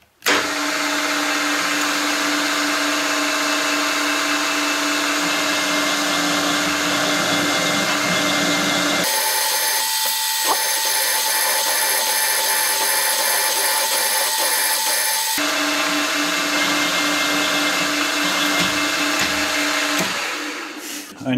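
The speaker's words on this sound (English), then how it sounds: "now I'm going to punch a hole in the middle with the rotor broach" A rotary broach punches a hole into an end plate on a milling machine, giving a loud, continuous mechanical whirring and grinding with a harsh metallic hiss that shifts in tone partway through.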